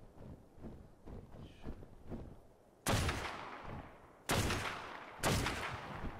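Three loud gunshots ring out in Ark: Survival Evolved, spaced about a second apart, each with a trailing echo, coming after a stretch of softer footsteps and rustling.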